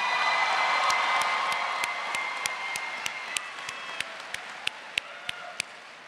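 Graduation crowd applause for top 10% graduates at the Life School Waxahachie 2023 ceremony, a broad wash of clapping that slowly fades while sharp, evenly spaced ticks punctuate the later part.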